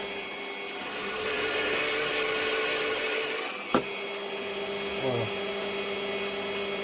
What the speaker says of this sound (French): ma perceuse à colonne,